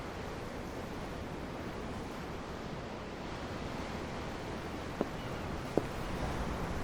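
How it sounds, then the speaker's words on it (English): Steady broadband ocean surf washes along in the video game Tales of Arise, a constant low roar of waves with a breezy hiss, plus two brief faint clicks near the end and no talking. "I'm looking at the ocean."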